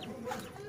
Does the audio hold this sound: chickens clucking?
yes